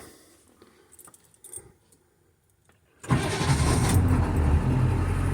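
Keys jangle and click softly, then the 7.3 diesel engine of a 2002 International Amtrans bus with a rebuilt long block cranks and roars to life at about three seconds, settling into a loud, rough idle.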